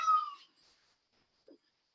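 A cat meows loudly indoors, one drawn-out high cry at the start that trails off, followed by a short faint chirp, with no talking over it.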